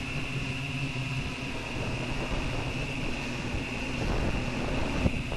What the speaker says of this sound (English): I suppose from the microphone you can actually hear that the wind is pretty bad